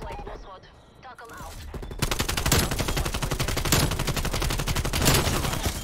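Rapid bursts of automatic gunfire in Call of Duty Cold War/Warzone, loud and near, with dense overlapping shots after a brief quieter stretch where a player talks.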